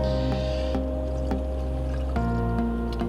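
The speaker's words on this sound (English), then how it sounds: "You can hear the air in the system" Air gurgling and bubbling through the coolant system of an Iveco Daily campervan while coolant is topped up, heard as a low steady churn with irregular soft pops and splashes, close and continuous.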